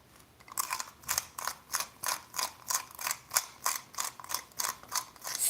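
A hand grinder crushes spices for homemade chili oil, giving a steady, rhythmic ratcheting crunch at about two turns per second, close and clear with no talking.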